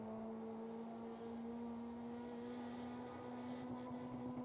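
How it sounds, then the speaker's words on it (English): Engine drone of a mini stock car in the iRacing sim, a steady, fairly faint tonal whine held near the rev limiter, with little distinct popping. "You hear that popping, and that's the car hitting the rev limiter."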